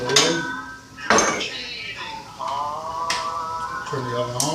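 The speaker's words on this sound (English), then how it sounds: "So I will move the ceramic gear away" Ceramic cookware shifted on a home stovetop, giving a few sharp clinks and knocks between spoken comments, close and moderately loud.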